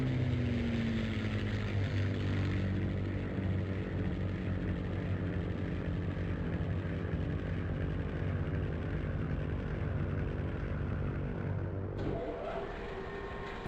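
A propeller fighter plane engine from the video game Crimson Skies drones steadily and loudly throughout, a constant buzzing roar with a slight pitch shift near the end.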